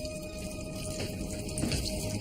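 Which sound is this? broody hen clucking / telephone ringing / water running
water running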